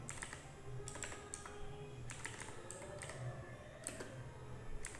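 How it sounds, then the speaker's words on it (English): Rapid keyboard typing with bursts of clicking keys, close and fairly quiet, continuing steadily with short pauses between bursts. "sorry for my typing"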